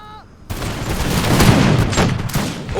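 Musket volley fire in an Anglo-Maratha War game battle involving British East India Company troops: a loud, dense crackle of many shots bursts in together and rolls on, with scattered further reports.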